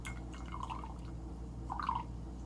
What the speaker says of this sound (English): now with the mellow yellow, we're going to add the littlest amount